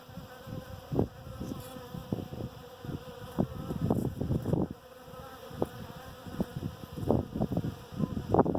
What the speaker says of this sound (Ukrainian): Одна бджола витягує другу, от тянуть, одна другу тягне.